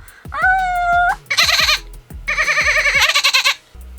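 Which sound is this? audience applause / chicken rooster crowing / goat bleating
goat bleating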